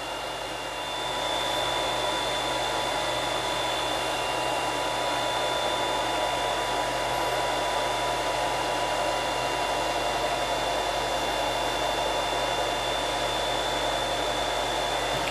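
An M2 Sniper coffee roaster runs during a roast with a steady, loud whooshing roar of airflow and a faint tonal whine, holding even throughout with no speech.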